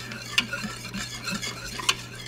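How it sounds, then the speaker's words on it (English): A small whisk scrapes and stirs a clumped roux in a pot, quick rhythmic clicks and swishes against the metal over a faint steady hum, close and fairly quiet with no talking. "I can actually take a little whisk and whisk it in together."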